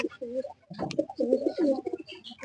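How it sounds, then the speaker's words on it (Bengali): A Sapchila pigeon of blood line coos up close, a series of soft, throaty rolling coos with short pauses between them and no talking. "মাশাআল্লাহ, এটা তো সুন্দর সাপচিলা কবুতরটা।"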